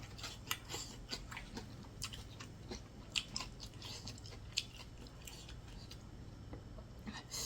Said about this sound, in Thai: หมูกรอบที่ไม่ฟูจะกรอบมาก